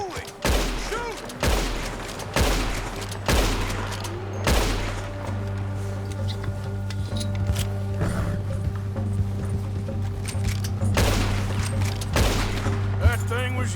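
Rapid gunfire aimed at a bear in Red Dead Redemption 2: a string of sharp, loud shots at irregular spacing, some close together, ringing out over a steady hum, with hoofbeat-like thuds and voices around them.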